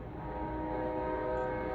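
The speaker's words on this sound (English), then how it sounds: "Sorry for the train. There's a train that arrives all the time around here." A train passing near a house, a steady sustained horn tone holding over low rumbling rail noise, fairly loud and continuous with no talk.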